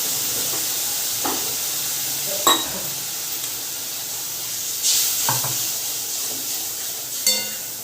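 A spice paste of coriander, cumin, chili and turmeric sautés in a pan with a constant soft sizzle, broken by a few sharp scraping stirs at irregular intervals.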